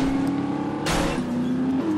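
An engine hums steadily as a car drives across a meadow in the wartime game The Saboteur, with a brief rough burst partway through, close and fairly loud with no voices.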